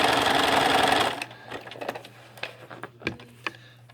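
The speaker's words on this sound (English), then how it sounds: "I'm going to sew my other side." A sewing machine runs a quarter-inch zigzag seam down a muslin strip. A loud close burst of stitching lasts about a second, then stops and leaves scattered small clicks and handling taps.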